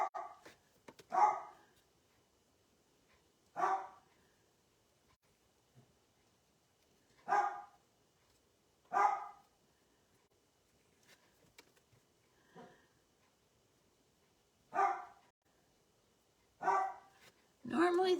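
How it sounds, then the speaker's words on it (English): A dog barks outdoors in a garden in short, spaced bursts, about seven or eight across the stretch, moderately near against an otherwise quiet background. "And the dog is barking because he's out there."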